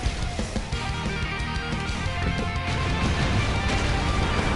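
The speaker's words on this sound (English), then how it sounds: "Oh, with that explosion." Explosions in the video game Broforce make a dense, sustained crashing rumble of smashing debris that fills the whole stretch, loud and continuous.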